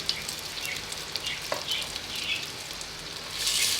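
Chopped onions sizzle in hot ghee in a pot, a soft, steady crackling and hiss with small pops, alone and fairly quiet, swelling slightly toward the end.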